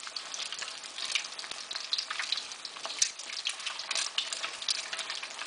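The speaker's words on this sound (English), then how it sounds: "Push the hot oil on top of the egg so the top part of the egg cooks as quickly." An egg fries in hot oil in a pan for a Thai-style fried egg, giving a steady close crackling sizzle with scattered sharp pops and spits throughout.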